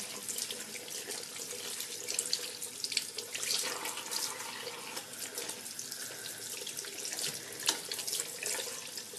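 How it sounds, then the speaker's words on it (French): Tap water running steadily into a sink while an organic makeup remover wipe is rinsed, a continuous close splashing flow with small bursts of movement throughout and no talk. "Maintenant, on va rincer. Regardez, hop, je rince."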